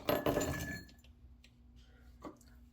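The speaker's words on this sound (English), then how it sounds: "Pour them in the glass." Blueberries tumble into a glass in a brief, loud rattling burst of small clinks, then fade to a quiet room with a faint tap later.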